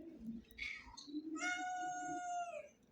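A cat meows several times in a garden, with a long, drawn-out tonal meow in the second half, close and clear.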